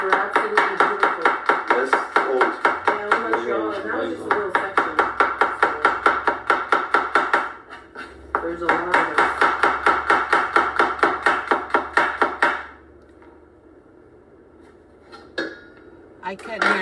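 A knife chops radishes on a cutting board in rapid, even strokes. Two long runs of sharp, close taps are broken by brief pauses, and quiet talk sits in the background.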